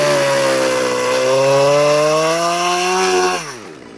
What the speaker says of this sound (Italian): Guardate come si muove la motosega